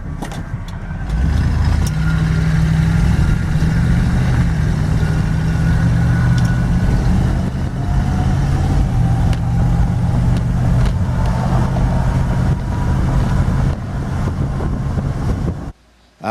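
Car with a Mopar 318 small block V8 and two-barrel carburetor accelerating through the gears, a loud, steady engine drone heard from inside that rises in pitch and then cuts off near the end.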